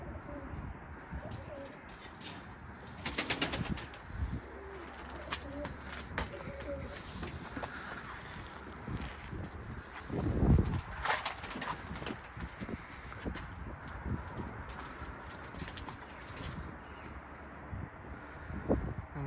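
Pigeons cooing and flapping in windy open air during a loft release, soft coos and wingbeats under steady wind rumble, with a voice talking intermittently and a louder gust near the middle.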